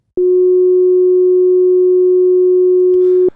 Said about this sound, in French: le filtre peut entrer en auto-oscillation lorsque la résonance avoisine son gain maximal